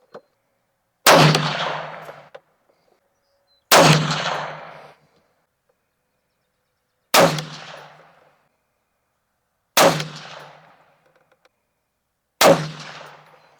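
Five separate rifle shots fired at a target zeroed at 50 yards, each a sharp crack with a short ringing decay, spaced a few seconds apart in otherwise quiet surroundings.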